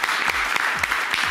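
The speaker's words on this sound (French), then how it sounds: "l'applaudit très fort, Yacine" A TV talent show audience gives a contestant applause, heard as a bright wash of clapping with a few sharper, rhythmic beats standing out.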